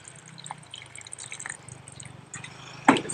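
Water poured onto potting mix to wet it before transplanting seedlings: faint scattered drips and trickles, then a brief louder splashing pour at the end, close up, no speech.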